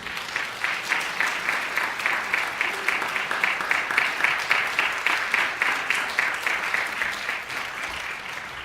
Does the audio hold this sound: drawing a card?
no